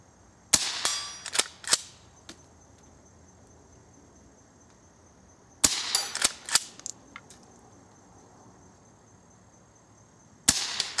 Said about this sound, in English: This is one of those guns that you never get tired of shooting because they're just an absolute joy.